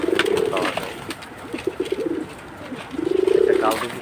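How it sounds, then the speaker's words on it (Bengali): A Pakistani Kaldom pigeon coos up close in two rolling, throaty bouts, one at the start and one at the end, with a quieter stretch of softer murmurs between them. "একটা কালদম কবুতর ধরলাম, এটা পাকিস্তানি কালদম"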